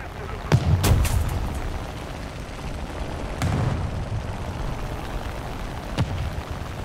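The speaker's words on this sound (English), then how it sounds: "Try and get some shots into him" Aircraft guns on a He 112 V-5 fighter in War Thunder ground realistic battle, firing in sharp bursts with a couple of loud cracks early and more later, set against steady engine rumble and faint talk.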